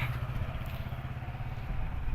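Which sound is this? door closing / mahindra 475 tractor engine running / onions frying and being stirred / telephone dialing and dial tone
mahindra 475 tractor engine running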